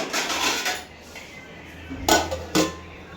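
Breakfast dishes, pots and pans being washed in a home kitchen, with a steady wash of running water and two sharp clinks of metal and crockery near the end.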